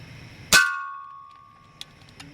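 One air rifle shot from a Daisy 880 or Ruger Air Hawk Elite II hits a metal target, making a sharp crack followed by a ringing metallic clang that fades slowly. Two faint small ticks follow.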